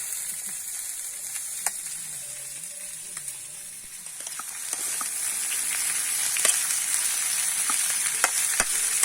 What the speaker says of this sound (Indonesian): Masak buncis kawan.